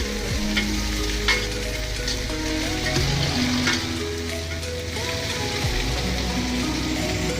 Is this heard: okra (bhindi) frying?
yes